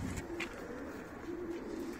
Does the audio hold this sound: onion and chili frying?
no